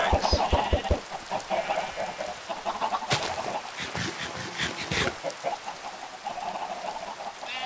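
Minecraft chickens cluck repeatedly in a busy, overlapping chorus with a few louder squawks, sounding synthetic and game-like, continuing throughout without speech.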